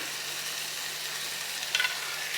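Rice tipped into a hot cooker and stirred for prawn biryani, giving a steady close sizzle with a brief scraping burst of mixing near the end.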